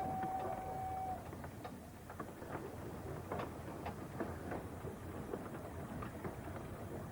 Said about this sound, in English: The train now runs past an old halt, flag station.